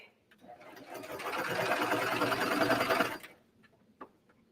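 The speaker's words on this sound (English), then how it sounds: "And then I'm going to stitch around this second hem of the leg." A sewing machine stitches around the second hem of a pajama pant leg in one steady whirring run of about two seconds, close and fairly loud, then stops, leaving faint clicks.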